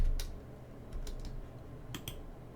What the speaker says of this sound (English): When my hand is hovering over the deck, I type in the number that I want to pull.